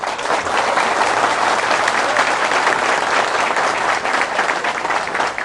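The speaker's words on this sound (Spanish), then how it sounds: "mi líder, José Francisco Peña Gómez, para quien pido un fuerte aplauso," A crowd claps steadily and loudly throughout, a dense, sustained wash of applause with no pauses.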